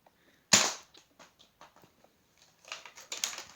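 Gunfire in a World War II themed Minecraft Pocket Edition game: one sharp, close crack stands out, followed by faint scattered clicks and then a quick burst of several lighter popping shots near the end.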